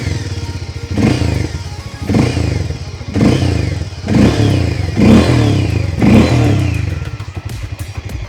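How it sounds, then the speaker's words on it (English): Harley-Davidson X440 single-cylinder thumper engine revved hard in repeated bursts, about six loud pulses of rising, throbbing exhaust, each swelling and dropping back, close to the microphone with no talk. "See that thump, it is so intoxicating when you're giving the X440 the beans"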